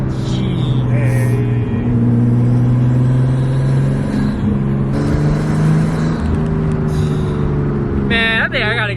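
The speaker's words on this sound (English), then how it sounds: "This turbo sounds crazy." Turbocharged engine of a right-hand-drive Nissan Skyline R34 hums and revs loudly from inside the car during a test drive, a steady drone with rising pulls, while people talk excitedly over it.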